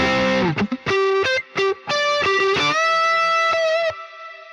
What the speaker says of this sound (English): It doesn't require a lot of time to get a great reverb sound right out of the box.